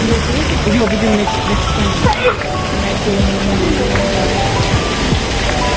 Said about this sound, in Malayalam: എൻ്റെ ബാക്കിലൊരു വാട്ടർഫോൾസ്